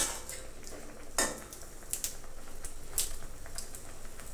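Fish boiling in a pot is turned over with a utensil, producing sharp metallic clinks and taps against the pot at irregular intervals, close and without speech.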